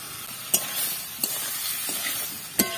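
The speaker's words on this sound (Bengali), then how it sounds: "এবার আমি এর মধ্যে সেদ্ধ করা আলুগুলো দিয়ে দেব" Boiled potatoes frying with spices in a pan for Bengali aloo curry, a continuous close hiss of sizzling with a few sharp scrapes of a stirring spoon against the pan.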